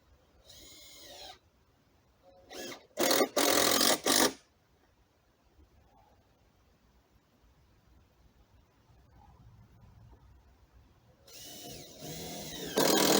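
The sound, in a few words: screws driven into pallet wood for compost bay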